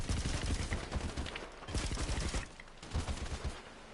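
Rapid automatic gunfire crackles in GTA V Online, with dense bursts of shots overlapping and a brief lull midway before more fire resumes, loud and close.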